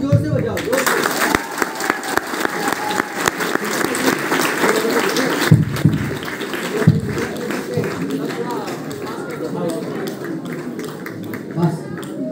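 A large audience at a motivational meeting in Lumbini, Nepal, claps loudly and continuously, a dense roar of applause with scattered sharp claps, while someone talks over it.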